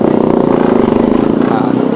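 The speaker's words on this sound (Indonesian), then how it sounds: "ada motor RI King di belakang kita ya" A Yamaha RX-King two-stroke motorcycle rides close behind on an evening Jakarta road, its loud steady buzzing engine drone pulsing continuously throughout.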